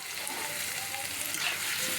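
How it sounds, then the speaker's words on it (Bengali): Bombay duck (loitta) fish hits a hot pan of frying onions, ginger paste and spices, giving a loud, dense, continuous sizzle with light stirring scrapes close by. "এখন আমি লইট্টা মাছগুলো এখানে ঢেলে দেব।"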